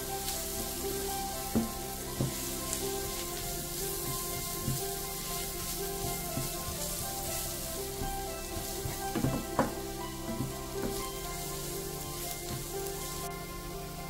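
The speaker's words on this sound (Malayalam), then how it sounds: "ഇനി ഇതെല്ലാം നന്നായിട്ടൊന്ന് മൂപ്പിച്ചെടുക്കാം." Turmeric, meat masala and other spices sizzling in oil in a pan for a Kerala-style rabbit roast, a continuous soft crackle with scattered spoon scrapes and taps, no voices.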